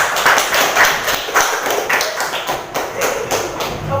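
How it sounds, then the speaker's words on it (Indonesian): A classroom of students applauding a group of presenters, with brisk, dense clapping that fills the whole stretch, loud and close. "Kita berikan aplaus untuk kelompok 1 yang sudah lama"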